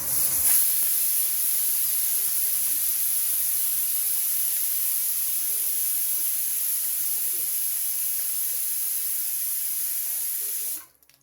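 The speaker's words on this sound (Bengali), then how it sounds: "কড়াইয়ে একটু সর্ষের তেল দিয়ে দিয়েছি আর একটু গোটা গরম মশলা দিলাম" Mustard oil in a wok sizzles with whole garam masala (cloves, small cardamom, cinnamon), a steady close hiss that holds evenly before cutting off near the end.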